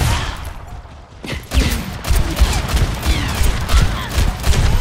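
Rapid rifle gunshots from Ashe in an Overwatch 2 Mystery Heroes match, loud repeated cracks amid chaotic game effects, with no one speaking.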